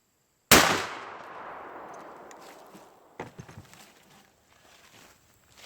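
A single loud shotgun blast from Hevi-Metal waterfowl ammo cracks sharply and then decays, followed about three seconds later by fainter clatter and thuds in an otherwise quiet outdoor setting.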